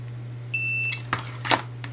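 A digital multimeter sounds a short, clear beep on a continuity test across points on a series battery pack. The single tone lasts under half a second, followed by a few soft clicks and rustles.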